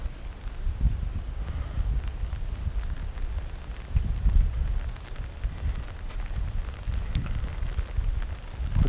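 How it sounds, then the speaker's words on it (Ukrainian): Steady rain falls outdoors at a lake in Kyiv's Vynohradar area, a constant hiss mixed with low gusty wind rumble buffeting the microphone; no one speaks. "Зранку теж йде дощ, Уже не такий сильний."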